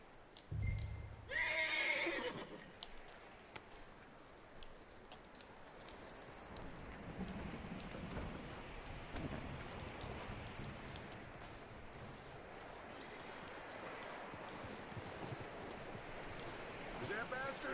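A horse in Red Dead Redemption 2 lets out one loud, close whinny early on, followed by a long stretch of soft outdoor ambience where faint hoof movement blends into wind-like noise.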